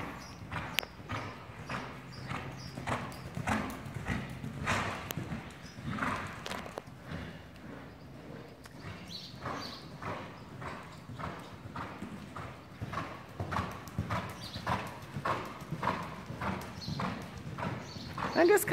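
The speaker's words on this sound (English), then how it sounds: "Oh, you get to see a canter." A horse's hooves beat a steady, rhythmic clip-clop as it canters, with each stride clearly audible and moderately close, while people talk over the hoofbeats.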